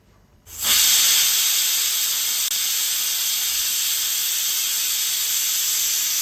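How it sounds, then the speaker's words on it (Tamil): A stovetop pressure cooker holding pulao lets out a loud, sharp burst of steam that begins abruptly after a brief quiet and then hisses on steadily and evenly until the end. "ரெண்டு விசில் வந்துருக்குங்க."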